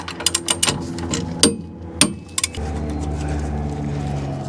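A ratchet wrench tightening the castle nut on the spindle of a 2008 Ford Ranger, giving several close, sharp metallic clicking bursts and clinks over a low steady background hum.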